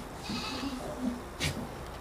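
Goats at a farm pen bleat from close by, a short wavering call followed by a brighter, sharper cry around the middle, with a steady low background hum.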